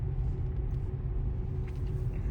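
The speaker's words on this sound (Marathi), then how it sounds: "ट्रॅफिक हे ट्रॅफिक जाम करून." Cars idle and creep in a road traffic jam, their engines making a low, continuous rumble that sounds close and steady, with no speech.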